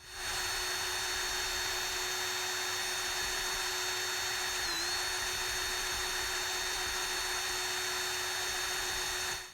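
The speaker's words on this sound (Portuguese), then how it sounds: "se você prender a maçã em uma furadeira e segurar um descascador contra ela" An electric drill spins an apple while a peeler is held against it, giving a steady, high-pitched whining motor drone that stays constant and fairly loud throughout, with only a slight wobble in pitch near the middle.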